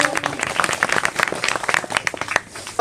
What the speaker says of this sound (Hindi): क्लास भाई तालियां, जोरदार तालियां।